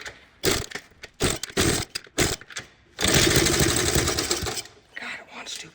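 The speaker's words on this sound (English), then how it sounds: "Wants to fire, it's firing." A 45-year-old Honda CT70 motorcycle engine tries to fire, with bursts of rough, loud sputtering, then a longer ragged run of about a second and a half that dies away, with a voice talking between the bursts.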